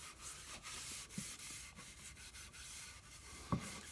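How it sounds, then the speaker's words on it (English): Cloth wiping excess wood preconditioner off a wall cabinet wine rack, making soft repeated rubbing strokes, faint and close, with no talk. "Now just wipe off the excess."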